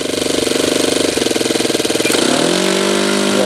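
A Saito twin-cylinder model aircraft glow engine runs with a loud, rapid, buzzing beat. Its throttle is opened quickly midway, and the pitch sweeps sharply upward into a higher, smoother roar.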